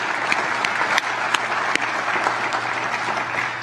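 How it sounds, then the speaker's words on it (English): An audience at a Wall of Honor dedication program gives a sustained round of applause for volunteer school board members, the steady clapping dense and fairly close, with a few sharper individual claps standing out. "let's give them a round of applause because total volunteers"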